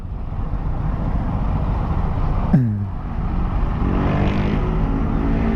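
Road traffic from a city street in the Philippines, heard from a moving rider on the way to a Fantasy World shop: a steady engine and road rumble with a brief sharp transient midway, then a rising motor tone near the end.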